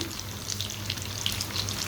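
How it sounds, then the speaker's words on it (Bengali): Noodle fritters deep-fry in plenty of hot oil, giving a steady, close bubbling sizzle with fine crackles throughout and no voices. "আর ভাজবেন খুব ডুবো তেলে বাট খুব হালকা ব্রাউন ব্রাউন করে এটাকে ভেজে নামিয়ে নিতে হবে"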